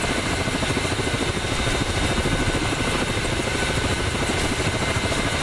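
An attack helicopter flies in the combat game DCS, a loud, constant, dense rotor and engine roar with a fast beating texture, steady and close throughout with no speech.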